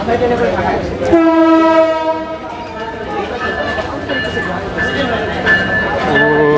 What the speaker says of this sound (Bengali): ইঞ্জিন আসতেছে